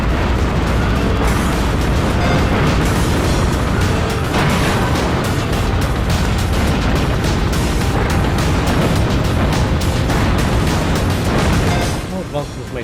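Dense, continuous explosions from a Vulcan weapon blasting apart the gun turrets of a huge battleship boss in a video game, loud booms and bursts layered thickly without pause, easing off only at the very end.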